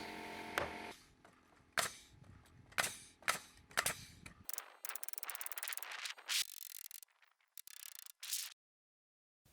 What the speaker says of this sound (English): taking a larger siding gun and ended up adding more nails around the structure